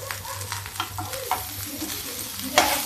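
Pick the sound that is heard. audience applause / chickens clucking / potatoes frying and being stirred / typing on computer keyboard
potatoes frying and being stirred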